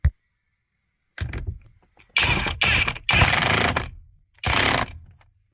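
Ratchet spinning a lock nut onto a Hyundai Sonata or Elantra steering wheel shaft, a short tap followed by four rapid buzzing zips at close range, separated by brief pauses.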